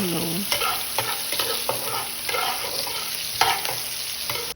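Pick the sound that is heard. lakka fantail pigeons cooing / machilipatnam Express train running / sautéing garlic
sautéing garlic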